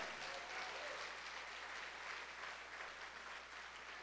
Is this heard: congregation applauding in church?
yes